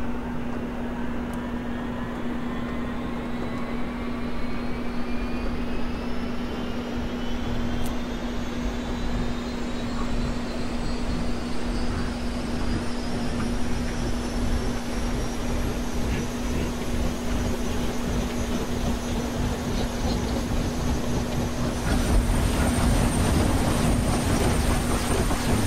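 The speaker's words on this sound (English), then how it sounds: "let's go ahead and get the engine started up" Bell UH-1 Huey helicopter engine starting up in the DCS flight simulator game, a turbine whine steadily rising in pitch over a constant hum, loud and close, building to a roaring rush near the end.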